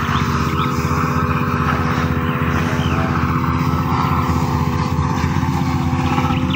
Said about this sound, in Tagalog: Ito mabilis lang grass cutter rin to.